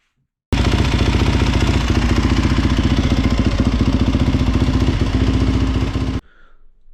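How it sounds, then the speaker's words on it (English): A Yamaha YZ450F dirt bike, a 2018–2022 model, fires up after a moment of silence and settles into a loud, even, rapidly pulsing idle with mechanical clatter for about six seconds, then shuts off abruptly into quiet. "now I'm going to start the bike. I'm going to let it run for a second"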